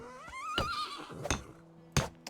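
A horse in the medieval village game Medieval Dynasty whinnies with a rising then wavering call, followed by a few sharp clopping hoof thuds, fairly close and clear with no talk over it.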